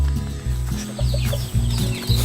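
Chickens cluck and murmur close by in short, overlapping bursts, a busy flock sound with no talking.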